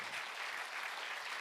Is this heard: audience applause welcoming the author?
yes